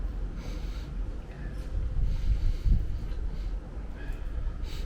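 Sniffing at a glass of Platan 11° Czech lager with a foamy white head, a few soft nasal snorts and breaths close to the mic, the strongest sniff coming near the end, over a low rumbling background.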